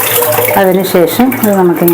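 Running tap water splashes over a crab being rinsed for curry, a close hissing wash that continues beneath someone speaking throughout.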